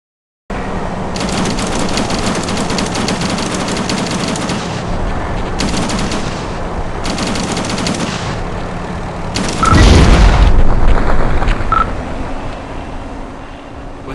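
Rapid machine gun fire in a plane combat video game comes in several long, loud bursts with brief gaps between them. Near the end a heavier impact or explosion rumbles, and the engine drone continues underneath.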